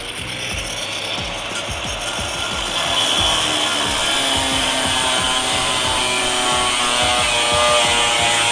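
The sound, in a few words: cutoff wheel cutting engine cover metal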